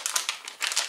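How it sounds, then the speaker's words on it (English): Mountain House food pouch being zipped shut and rolled up, a brief close series of crisp plastic crinkles and rustles in quick bursts. "You go ahead and zip it up and you roll it up"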